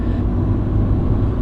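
A BMW Compact 318ti's engine hums and rumbles from inside the car as it pulls through the gears, a steady low drone with no voices.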